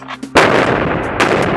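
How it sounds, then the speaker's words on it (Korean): Demolition explosion at North Korea's Punggye-ri nuclear test site in May 2018: a faint hum gives way to a sudden loud blast that rolls on as a sustained roar, swelling again near the end. "풍계리 핵실험장 폭파도 5월에 진행됐습니다."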